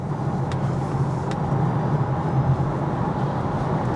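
A Polestar 2 Single Motor Long Range electric car accelerating, heard as a steady low road and cabin rumble with faint whine, continuous and moderately loud, two brief ticks early on, no talking.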